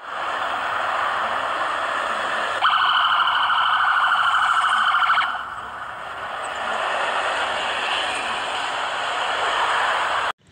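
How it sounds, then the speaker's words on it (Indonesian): Electronic siren from a toy ambulance, a continuous wailing warble that shifts pattern partway through, close and steady with no talking. "Wow, ini ada mobil ambulan."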